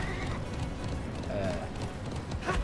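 A horse gallops in the online game Alicia Online, a continuous run of clip-clop hoofbeats under game sounds and background noise, with a brief whinny-like tone midway.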